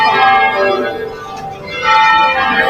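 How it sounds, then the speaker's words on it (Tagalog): A church bell rings before a Simbang Gabi mass, with sustained, ringing metallic tones that swell, dip briefly and rise again, fairly loud and continuous. "Tumutunog na yung kampana."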